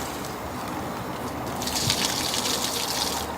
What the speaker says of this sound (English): that, in fact, means I need to tip out some of the water